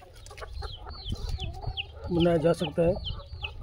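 Chickens on a free-range poultry farm cluck in short, rapid bursts, a few birds close by, with one louder squawking call in the middle and a brief voice speaking.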